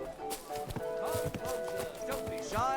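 Horse hooves clip-clop at an irregular pace in the medieval video game Kingdom Come: Deliverance 2, sharp and close, with a brief whinny near the end and faint background voices.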